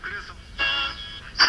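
A Kensington AM transistor radio being tuned across a narrow band gives bursts of hissing static and whistling tones, with brief snatches of broadcast voice coming and going as the dial moves.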